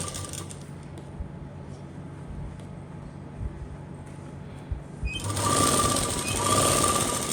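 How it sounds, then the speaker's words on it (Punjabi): A sewing machine sews long basting stitches on a paneled kali frock. Soft handling knocks come first, then the machine runs loud and close for the last couple of seconds. "ਵੱਡੇ ਬਖੇ ਨਾਲ ਆਪਾਂ ਨੇ ਕੱਚੀ ਸਲਾਈ ਲਾ ਲੈਣੀ ਹੈ"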